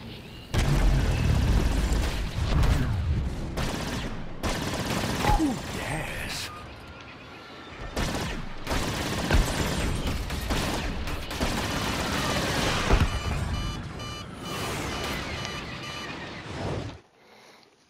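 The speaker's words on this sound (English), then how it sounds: "They seem to have exploded." Explosions and gunfire in a space combat video game come as a chaotic run of loud booms and crackling bursts, with brief lulls between salvos and a sudden cutoff near the end.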